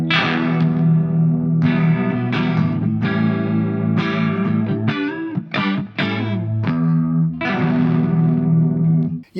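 Clean electric guitar played through an ML Sound Lab Volcano modelling a Soldano SLO 100 clean channel with a rotary speaker effect, strummed chords and single notes ringing with swirling modulation, loud and alone.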